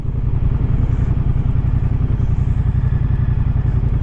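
A 2023 Moto Guzzi V100 Mandello motorcycle is ridden while being followed from behind, its engine producing a steady, loud, rhythmic low throb with a continuous pulsing chug throughout.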